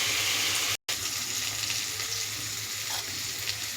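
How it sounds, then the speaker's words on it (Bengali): Potatoes fry in a pan for a soyabean curry, giving a continuous, fairly loud sizzling hiss with a very brief gap near the start. "তো আলুগুলোকে একটু ভাজবো।"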